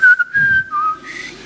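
A single person whistling a short, clear wavering tune, loud and close, a brief melodic phrase heard alone with no talking.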